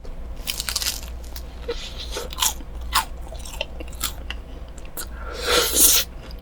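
A large milk cream waffle with apple jam bitten into and chewed up close, with repeated crisp, crunchy bites and moist chewing at a steady, loud level and no talking.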